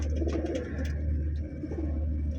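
Pigeons coo aboard a ship, with soft, repeated throaty calls over a steady low hum of ship machinery.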